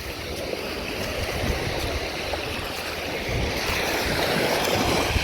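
Sea waves wash and splash continuously nearby on a beach, a dense churning roar that swells slightly louder toward the end, with no voices.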